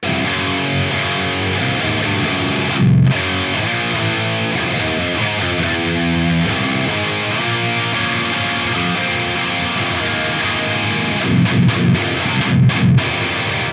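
A metal rhythm guitar with heavy distortion plays through a Jensen Electric Lightning speaker, miked at the centre of the cone. Loud, dense chugging riffs continue throughout, with brief stops and stabs near the end.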